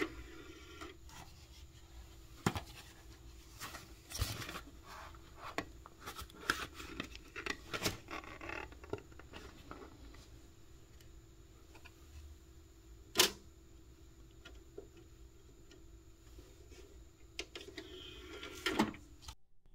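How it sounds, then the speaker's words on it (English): A disc is slipped into a computer's optical drive, giving quiet plastic clicks and rubbing, with a sharper click of the tray midway and more handling near the end, close and faint. "Let's go ahead and put in our disc."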